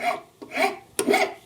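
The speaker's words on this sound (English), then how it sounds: "Now I'm going to follow it up with cabinet maker's file. And that's going to be quite a bit smoother." A cabinet maker's file rasps across a wooden round-over edge in three close, steady smoothing strokes, each a short dry scrape with a brief pause between, heard alone.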